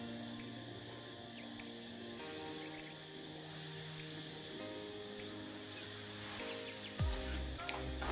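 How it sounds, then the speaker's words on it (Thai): Anti-rust spray hisses steadily onto rusty screws of an old 500VA UPS under repair, a close continuous spray with small rubbing and clicking sounds near the end. "ขึ้นสนิมฉีดสเปรย์กัน"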